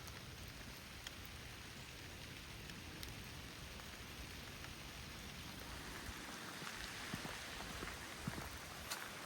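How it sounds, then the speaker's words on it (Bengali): Steady rain falls on a vegetable garden seedbed planted with gourd, pumpkin, eggplant, chili and tomato, a dense even patter with scattered louder drops throughout and no voices. "এখন বৃষ্টি হচ্ছে, এই যে বৃষ্টি দেখছেন, বৃষ্টি হচ্ছে"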